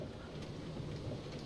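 Rain falls steadily in Minecraft during a sleety spell, a dense, even hiss of drops with a low rumble underneath, continuous for the whole short stretch with no voices.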